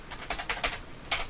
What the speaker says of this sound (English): these keys are amazing. I mean, you can hear just how loud they are